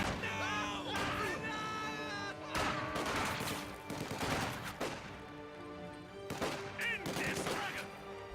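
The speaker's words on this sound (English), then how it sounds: "Here comes a Maxim fire." Bursts of Maxim machine gun fire in a real-time strategy battle, loud rattling volleys among other battlefield noise, with shouting voices and commentators talking over it.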